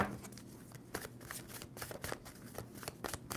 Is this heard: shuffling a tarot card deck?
yes